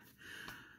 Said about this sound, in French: je suis essoufflée. Deux étages